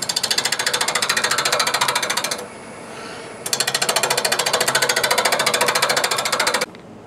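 A wood-turning tool cuts a four-sided jar on a lathe with its bevel rubbing, making a loud, steady, rapid rasping chatter that runs in two long stretches split by a short quieter pause, with no voices.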